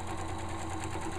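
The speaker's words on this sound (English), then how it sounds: "So I'm going to go ahead and sew all the way around." A sewing machine runs a straight stitch around the waistband of a pair of shorts, humming steadily and continuously at close range with a fast, even needle patter and no talk.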